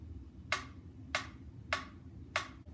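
Four crisp, evenly spaced metronome ticks at 104 beats per minute over a low background hum, with no talking.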